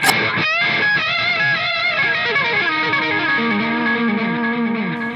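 Electric guitar through a Quad Cortex preset with a delay effect, a picked distorted line whose notes trail off in repeating echoes that stack and ring on, played alone.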